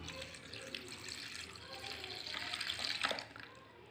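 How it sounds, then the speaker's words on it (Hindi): Water, 200 ml of it, poured into a 28% SLS mixture while making liquid hand wash: a steady, close splashing pour that grows louder and busier toward the end. "और इसमें अभी हम डालेंगे H2O सैंपल पानी 200 ml"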